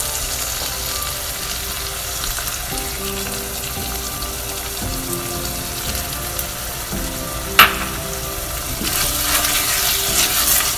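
Garlic fries with onion and tomato paste in a pan for a chickpea stew, a steady close sizzle and hiss with occasional soft stirring scrapes and one sharp clink, no talking.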